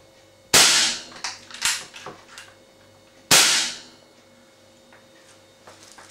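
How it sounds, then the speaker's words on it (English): A .177 (4.5mm) air rifle fires twice without a silencer, two sharp loud cracks about three seconds apart, each followed by a brief ringing tail and a few faint mechanical clicks. "First of all, 2 shots without a silencer."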